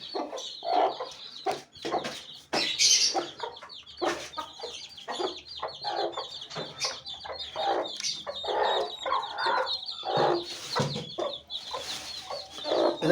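A hen clucks repeatedly up close while high, thin peeping of her chicks, sheltered under her, chirps continuously underneath, a busy, uneven stream of sound.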